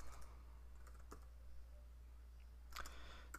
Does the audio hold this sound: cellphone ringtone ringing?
no